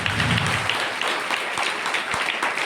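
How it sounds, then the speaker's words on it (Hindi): An audience at a large church meeting in Gujarat claps loudly in a dense, sustained burst of applause that fills the hall, with a few low thumps under the crowd noise. "जोरदार तालियां लगाइए पवित्र आत्मा के लिए।"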